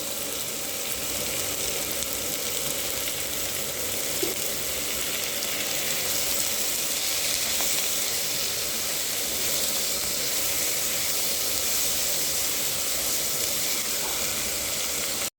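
Three large onions frying in ghee in a kadai, a constant dense hissing sizzle that stays level and fairly loud from start to finish, with no talking over it.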